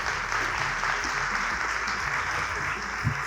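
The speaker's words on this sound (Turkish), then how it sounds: "Alkışlarınızla Saadet Şen bizlerle beraber." An audience applauds a speaker taking the stage at an inspirational talk event, dense continuous clapping at steady loudness throughout.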